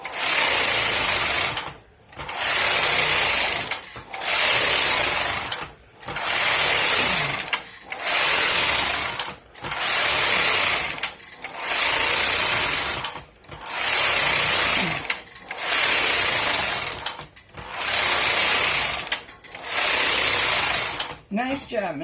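A knitting machine carriage is pushed back and forth across the needle bed while working ribbing rows for a hat, producing about a dozen loud, even whooshing, clattering passes in a steady rhythm, each separated by a brief pause.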